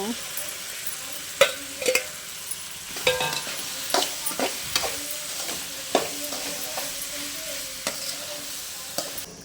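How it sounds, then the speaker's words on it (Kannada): Okra fries in a pan with a continuous sizzle, punctuated by sharp scraping and tapping strokes as it is stirred, close and fairly loud. "ಈಗ ಇದು ಬೆಂಡೆಕಾಯಿ ಹಾಕೋತೀನಿ ಫ್ರೆಂಡ್ಸ್ ಅದನ್ನು ಫ್ರೈ ಮಾಡ್ಕೊಳ್ವ ಹಂಗೆ"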